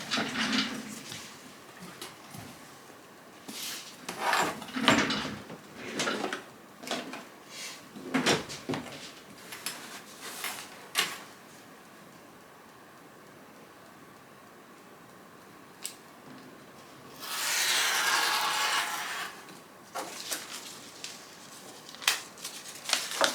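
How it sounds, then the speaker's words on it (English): Scissors trim paper along a dotted line, snipping in a run of short, crisp cuts and rustling the sheet, close and fairly quiet, with a longer, louder rustle near the end. "we are going to trim around this dotted line, not the solid line, the dotted line"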